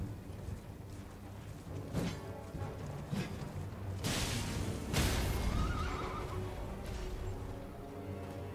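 A horse in the Elden Ring video game at Castle Morne neighs in a loud whinny amid heavy hoof thuds and crashing combat impacts, with several strong bursts clustered around the middle.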